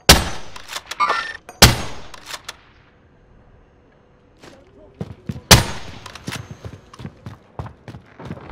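Gunfire in the battle royale shooter Call of Duty: Warzone, with sharp, loud single shots and short bursts separated by quiet gaps, a few sounds echoing, and scattered game clatter between them.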